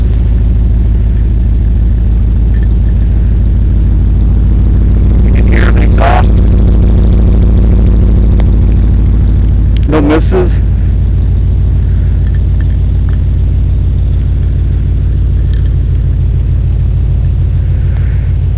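A 1980 Corvette engine idles steadily for the whole stretch under a low, constant rumble, with two brief louder bursts that sound like a hood being handled or closed nearby.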